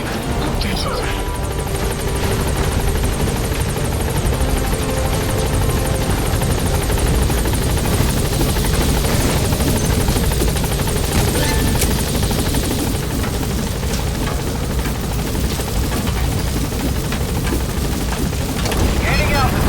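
A helicopter in Metal Gear Solid 5: The Phantom Pain roars with a loud, continuous rotor and engine drone that stays close and steady throughout.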